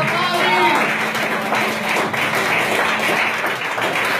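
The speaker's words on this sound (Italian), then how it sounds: "Grazie Paglio, ancora un applauso, bravissimo." An audience applauds after a live rock performance, a sustained wash of clapping that stays fairly steady and close, while someone speaks over it.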